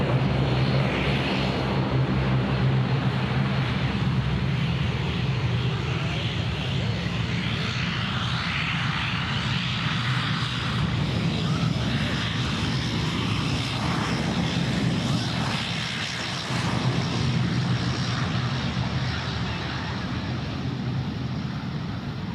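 An aircraft lands at Sydney Airport on runway 34 left in a 14-knot crosswind, producing a loud, continuous engine roar and rushing jet noise that holds steady for the whole stretch, with faint talk underneath.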